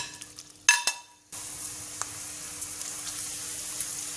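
Sun-dried beetroot chips frying in hot oil in a pan: after a brief clatter, a steady bright sizzle holds close and even, with faint pops scattered through it.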